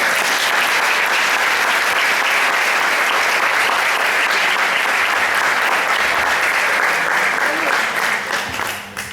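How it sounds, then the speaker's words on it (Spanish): An audience gives a panel a long, dense round of applause at a talk on new masculinities and the place of the father, a loud, steady wash of clapping that continues for several seconds before tapering off at the end. "un fuerte aplauso para el panel"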